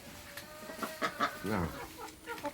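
A chicken clucks close by in a short run of soft, choppy calls with a rising squawk in the middle, heard alone against quiet background.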